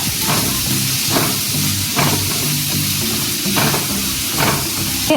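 Sliced onions fry in hot oil with mustard seeds, giving a continuous loud sizzle and hiss with rhythmic bursts roughly every second as the pan is stirred, and no talking.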